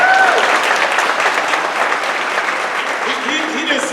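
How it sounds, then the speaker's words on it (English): A crowd applauds Officer Quigg, a dense wash of clapping filling the moment at steady strength, with a faint voice near the end. "First, y'all give Officer Quigg a round of applause."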